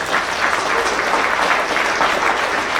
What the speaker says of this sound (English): Round of applause for Dan.